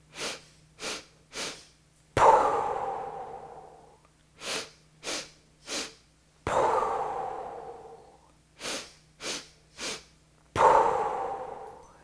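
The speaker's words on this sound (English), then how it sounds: "It's 3 sniffs and a pow." A breathing exercise repeats three times: three quick, sharp nasal sniffs followed by one forceful, drawn-out exhale, close and clear with no talking.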